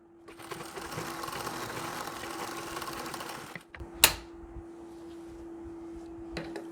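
A sewing machine runs a zigzag stitch along the cut edge of dhoti fabric, a steady whirring rattle for about three and a half seconds before it stops, followed by a sharp click and quieter handling sounds.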